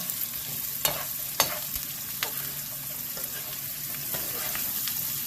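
Breakfast potatoes frying in a pan over medium heat, seasoned with garlic powder: a steady close sizzle with a few sharp scraping stir clicks near the start, then an even hiss.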